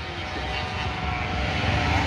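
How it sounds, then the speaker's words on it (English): A racing motorcycle engine drones loud and steady on the Cadwell Park circuit during a classic super race, a continuous roar that builds slightly over two seconds. "The bike sounds good."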